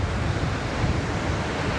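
Waves wash onto a clean beach along the coastline, a steady close rush of surf mixed with wind rumble on the microphone, continuous and moderately loud with no voices.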